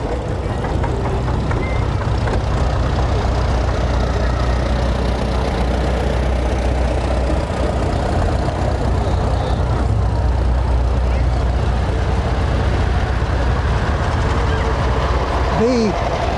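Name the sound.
John Deere two-cylinder tractor engine running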